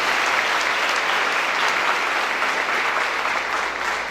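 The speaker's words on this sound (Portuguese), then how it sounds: "Vamos aplaudir bem forte o Senhor" A church congregation applauds loudly and steadily, a dense wash of clapping that holds at full strength for several seconds without pause.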